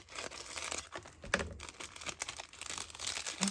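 A package is cut open and plastic packaging crinkles and tears at close range in a series of quiet, irregular rustles, with no talking.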